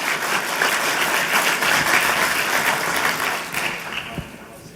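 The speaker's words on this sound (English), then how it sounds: "give a round of applause for those two gentlemen" A room of people applauding two honored gentlemen at a company ownership gathering, dense sustained clapping that stays loud and steady before tapering slightly near the end.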